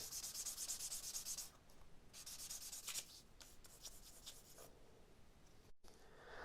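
Sandpaper rubs against a wooden ring in quick back-and-forth strokes, a dry scratchy rasp that pauses briefly between passes, close and fairly quiet.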